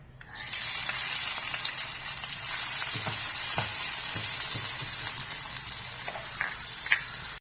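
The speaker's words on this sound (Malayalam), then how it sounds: "രണ്ട് കഷ്ണം ചുവന്നുള്ളിയും രണ്ട് കഷ്ണം വെളുത്തുള്ളിയും നന്നായിട്ട് ചതച്ച് ഇതിലിട്ട് മൂപ്പിക്കുക" Crushed shallots and garlic fry in hot coconut oil with a steady, dense sizzle that runs throughout, close and loud, with a few faint clicks of a utensil over it.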